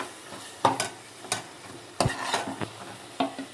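Masala for a Tamil fish curry is sautéed in a pan, heard as a few sharp spatula scrapes and knocks against the metal spaced over a faint, quiet sizzle, with no talking.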